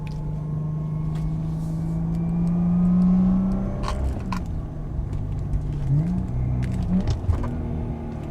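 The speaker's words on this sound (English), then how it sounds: "Listen to this car." Subaru Liberty 3.0R with an EZ30 flat-six boxer engine and six-speed STI gearbox, heard from inside while driving: a smooth engine note rises and falls through gear changes over low road rumble, with no talk.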